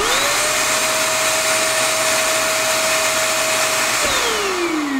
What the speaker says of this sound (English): Now, it does say this vacuum is quiet at under 79 decibels